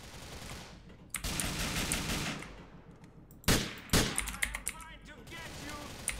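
Gunfire in Grand Theft Auto IV, with loud, sharp bursts of shots at irregular intervals over continuous game background noise, a few separate blasts standing out near the end, and no voices.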